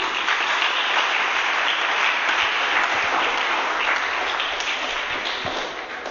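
An audience at a Ghanaian French teachers' quiz final for primary schools gives sustained applause, a dense, even clapping that stays steady from start to finish with no talking.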